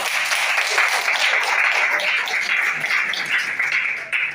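Seminar audience in Yaoundé, Cameroon, applauding steadily for about four seconds, a dense, even wash of clapping with no voices standing out.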